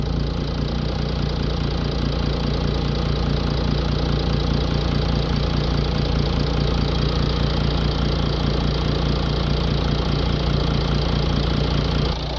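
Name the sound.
Mercedes CLS V6 engine idling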